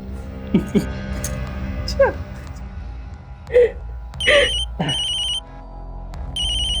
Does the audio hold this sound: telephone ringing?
yes